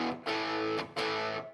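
Electric guitar played through an Orange amp with the shape control set to a neutral middle position, giving lightly distorted strummed chords that ring out and decay, struck three times in quick succession with no voice.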